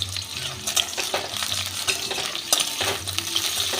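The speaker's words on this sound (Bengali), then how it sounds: "আলুটা ভাজা হয়ে গেছে।" Diced boiled potatoes fry and sizzle in a pan, a steady close crackle with occasional stirring scrapes and a low hum beneath.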